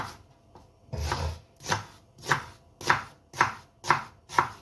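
An onion being sliced with a knife on a board, a run of about eight evenly spaced crisp chopping strokes, close and clear, with no one speaking.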